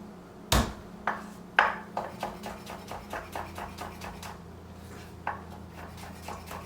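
A knife chops garlic on a cutting board for a vegan Caesar salad, a quick series of sharp, close taps that start strong and settle into a lighter, steady rhythm.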